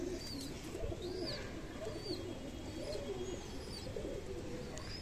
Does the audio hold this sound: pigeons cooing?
yes